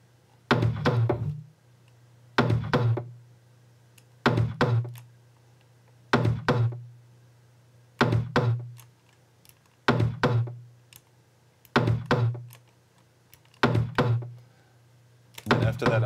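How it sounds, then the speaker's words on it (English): Gated drum loop in which only tom hits pass through, the kicks removed, giving eight evenly spaced bursts of punchy low tom strikes with short tails and silence between them. "So the gate is getting rid of the kicks in this loop, only letting the toms through"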